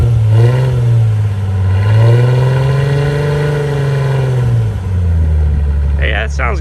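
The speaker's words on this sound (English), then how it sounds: "Give it a little rev." A Ford Mustang with a newly installed loud exhaust rumbles close by, holding a deep steady drone that swells into a rev and then settles. A brief clatter comes near the end.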